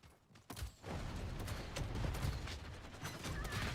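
Bursts of gunfire in the battle royale game Realm Royale, a dense, steady stream of sharp repeated shots after a brief quiet start, fairly close and continuous.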